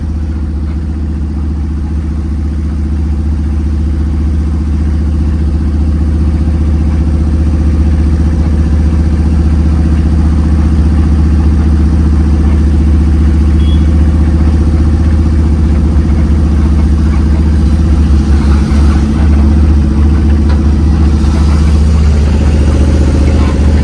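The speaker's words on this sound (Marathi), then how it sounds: "आम्ही 20-30च्या स्पीडने चाललोय गाडी घेऊन, कारण की बग्गी मागं टोचन केली असल्यामुळं निवांतमध्ये जायला लागतं" A Tata Ace mini truck drives slowly in the rain at around 20–30 km/h, towing a horse buggy behind it. Its engine gives a steady, close, low drone that barely changes for the whole stretch.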